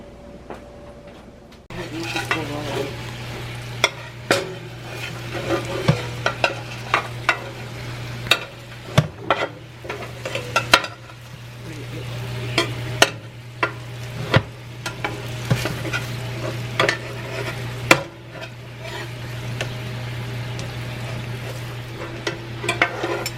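Sausages deep-frying in a pan of hot oil for Lao cooking, a steady sizzle with frequent sharp clicks and scrapes of a utensil against the pan, close and fairly loud with a constant low hum underneath.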